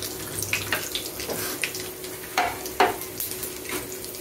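Vada pieces are stirred through a fish curry in a pan: a wet, bubbling simmer broken by several scraping spoon strokes, close and fairly loud, with no voices.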